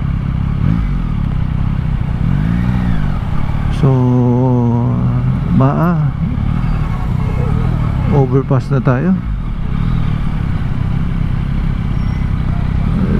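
A motorcycle cruising along a city road past an overpass and construction traffic, its engine a steady rumbling drone with wind noise, while the rider talks intermittently over it.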